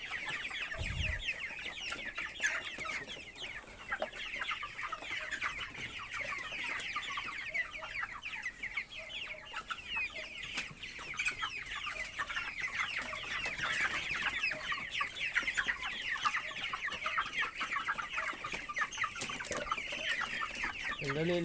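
Pet chickens cluck steadily inside their coop, a dense, continuous chorus of many birds close by, with a brief low knock near the start and no talking.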